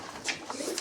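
Pigeons at a bus stand in Jalangi give a single soft, throaty coo in under a second, close and clear against quiet background noise.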